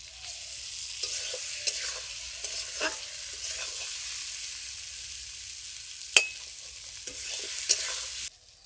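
Boiled potatoes frying in a pan with a steady hiss, stirred now and then with scraping clicks and one sharp knock of the spoon; no talking.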